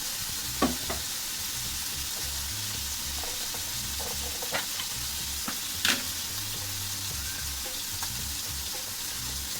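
Chopped onion, a whole garlic bulb and shrimp fry in a pan, giving a continuous soft sizzle with occasional sharper pops and spatters, close and fairly quiet.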